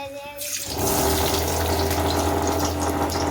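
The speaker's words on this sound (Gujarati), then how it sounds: "આપણે થોડીક એવી ચિપ્સ નાખી દેવાની છે" Potato chips dropped into hot oil set off a sudden, loud, continuous sizzle that rushes in after a quiet start and stays dense and steady to the end, with no talk.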